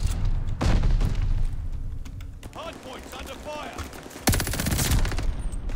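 Loud automatic gunfire from Call of Duty Vanguard sounds in rapid bursts with sharp cracks and thuds, and voices talk between the volleys.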